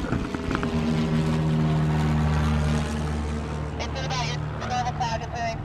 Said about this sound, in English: That's great to have that plane up there.